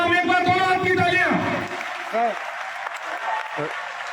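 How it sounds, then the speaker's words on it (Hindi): Audience applause for an Olympic bronze medal winner at an academy event, sustained crowd clapping under an amplified voice that sings or speaks over it at the start, fading slightly later on. "एक बार दोनों हाथ की तालियां"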